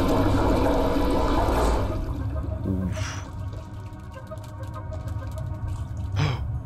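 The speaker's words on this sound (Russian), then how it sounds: "Мы смыли унитаз." A video game toilet flushes with a loud, close rush of swirling water that tapers into a gurgling drain, followed by a couple of brief splashy bursts.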